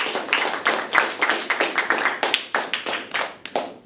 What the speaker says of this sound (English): let's give Luke a big round of applause